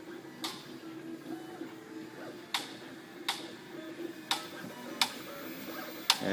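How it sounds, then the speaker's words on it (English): A MakerBot Replicator 2 3D printer runs in a university gaming room, a low steady motor hum broken by sharp, irregular clicks every half second to second. "And we have another 3D printer here."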